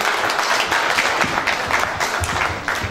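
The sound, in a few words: audience applause after a speech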